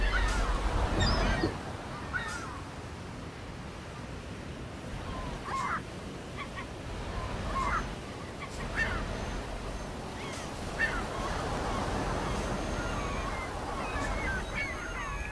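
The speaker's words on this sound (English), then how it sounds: "You can hear the seagulls in the background." Gulls call intermittently over a steady wash of surf and wind on the Isle of Man in a Euro Truck Simulator game, the cries sharp but somewhat distant, with no speech.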